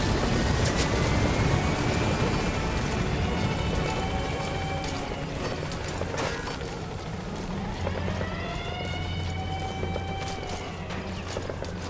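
A helicopter flies away in the video game Metal Gear Solid 5, a continuous rotor drone with whining tones, mixed among other in-game sounds at moderate loudness.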